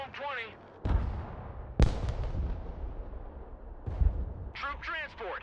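Artillery shells bursting in the war video game Broken Arrow: three heavy booms spaced about a second apart, with rumbling tails over continuous battle noise, and brief radio-style voices at the start and end.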